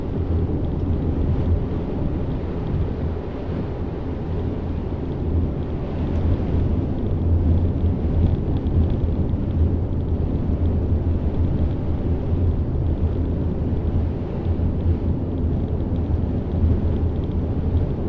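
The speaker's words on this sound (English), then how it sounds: "This wind is pushing me everywhere." Strong blizzard wind buffets a vehicle on a northern Michigan road, a loud, steady roaring rush with low rumble that persists unbroken throughout, with no talking.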